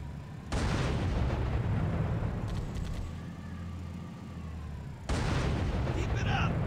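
Heavy anti-aircraft gunfire from a Marine in Halo Custom Edition, a loud continuous pounding roar that dips briefly in the middle and resumes hard near the end, with no speech.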